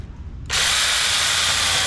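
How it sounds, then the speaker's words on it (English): A small cordless, brushless, battery-powered NaTiddy 6-inch mini chainsaw, used on a tree branch, kicks on abruptly after a short quiet moment and holds a loud, steady high-pitched motor whine up close. "I got this nice small portable chainsaw"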